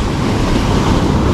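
Large ocean waves crash on the beach at Dingalan, a dense, loud roar of surf mixed with wind buffeting the microphone, and no voices.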